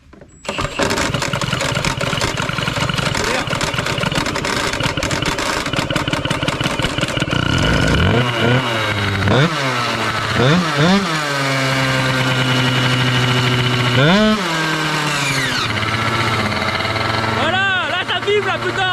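A 70cc moped engine on a 100 Fast Spitro project bike sputters unevenly at first, then catches and revs repeatedly, its pitch rising and falling before settling into a rough, vibrating idle. It is loud and close, with people talking over it.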